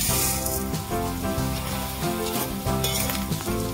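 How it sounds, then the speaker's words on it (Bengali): Vermicelli (semai) frying in hot ghee in a pan, with a steady sizzle and the scrape and clink of stirring. Strong tonal music runs loudly underneath throughout. "ঘি গরম হয়ে গেছে, সিমাইগুলো দিয়ে দেবো।"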